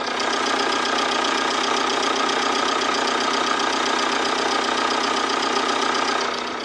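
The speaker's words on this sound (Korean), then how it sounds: "바로 체로키 차량 바로 엔진 소리 한번 들려드릴게요" A Jeep Cherokee 75th Anniversary limited edition turbo diesel engine idles steadily and evenly, a constant close-up hum and clatter with no change in pitch.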